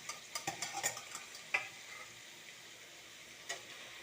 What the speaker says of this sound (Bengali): দিয়ে এটা আমি ভালো করে একটু মিশিয়ে ফ্রাই মতো করব 4-5 মিনিট